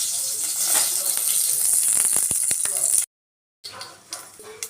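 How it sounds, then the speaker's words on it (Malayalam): Mustard seeds crackle and pop in sizzling hot oil, a rapid run of sharp pops over a loud hiss, close up, broken by a brief silence. "കടുക് പൊട്ടുന്നത് വരെ കാത്തിരിക്കുക"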